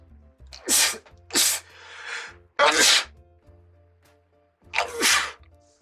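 Four sharp sneezes, loud and close, come in bursts with pauses between them and a brief exhale after the second.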